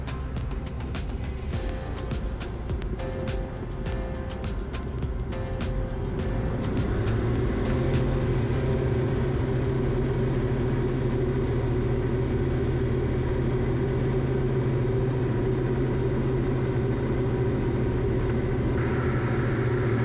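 Light aircraft engine held at steady full power through a rolling takeoff departure, a loud continuous drone with a low hum that deepens and strengthens midway, in a cockpit with no talk.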